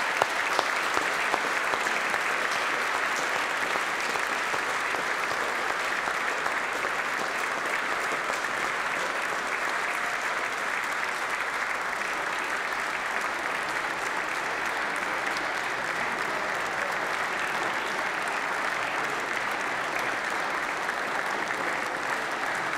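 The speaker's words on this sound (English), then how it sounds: "And I think a final applause for their achievements" Sustained, loud applause from a large graduation ceremony audience at the University of Manchester, steady dense clapping filling the hall without a break.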